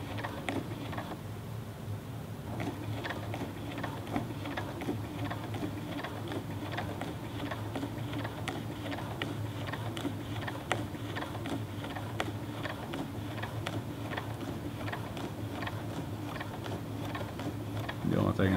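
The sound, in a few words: Kenmore 19233 sewing machine sewing buckram curtain header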